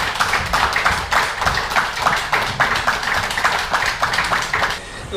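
An audience claps to welcome a speaker at a Korean lecture, a dense, steady patter of many hands nearby that runs for several seconds before stopping abruptly.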